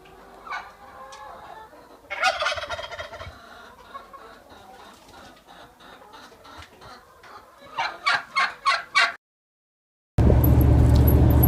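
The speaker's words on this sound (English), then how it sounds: "there's a chicken upstairs, if you can hear it" A chicken somewhere upstairs clucks in scattered bursts, ending in a quick run of loud, rhythmic clucks before the sound cuts off abruptly and a steady hum follows.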